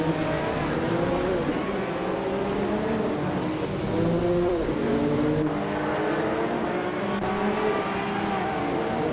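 BMW M3 GTR Evo race cars in a racing game, a pack of engines howling at high revs with pitch rising and falling through gear changes and cars passing close by.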